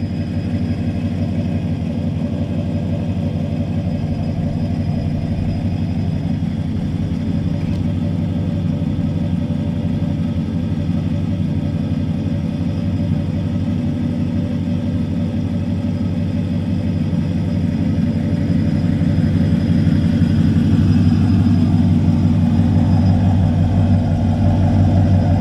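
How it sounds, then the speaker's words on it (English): A HEMI pickup truck on stock camshaft tuning idles with a steady low rumble, heard from a short distance away and rising slightly toward the end, with no voices. "That is the truck with its regular tuning without a ghost cam"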